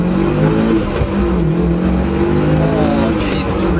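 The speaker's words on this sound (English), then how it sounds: "There's a bit of a little bit of turbo flutter in it." A turbocharged Evo 8 with a six-speed gearbox accelerates hard from the driver's seat: loud, continuous engine drone rising in pitch with some turbo flutter, filling the cabin throughout.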